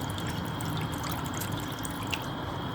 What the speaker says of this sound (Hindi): हम एक फ्राई पैन में 2 कप के करीब पानी डाल के